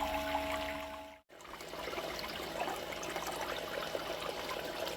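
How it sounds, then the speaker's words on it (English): Water pours across a Miller table used for gold separation, running fast and uneven: a steady close rush and trickle with a pump hum, briefly cut off for an instant, then flowing on without talk. "We've got a weird water flow."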